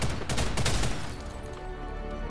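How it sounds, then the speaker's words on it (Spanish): Rapid bursts of gunfire in the Ghost in the Shell shooter game, a dense volley of loud cracks that thins and fades into a quieter tail. "¿Funciona el disparo a la cabeza?"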